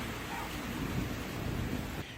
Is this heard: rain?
yes